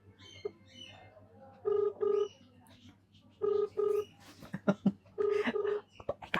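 A phone being dialed with a run of electronic keypad tones in short bursts, some single and some paired, between quiet rustles and brief handling noises, with a faint steady hum underneath and no talk.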